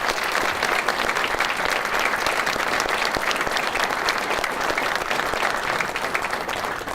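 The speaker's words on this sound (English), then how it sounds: "So give yourselves a round of applause." Sustained applause from a crowd at a City of Albuquerque mayoral news conference, dense steady clapping that holds at an even level throughout with no talking over it.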